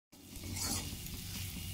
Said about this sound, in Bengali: এরপরে এতে হলুদ, কাশ্মীরি লঙ্কার গুঁড়ো আর একটু ম্যাগি মশলা দিয়ে ভালো করে মশলাটা একটু কষিয়ে নিচ্ছি